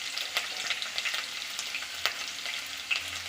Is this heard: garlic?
yes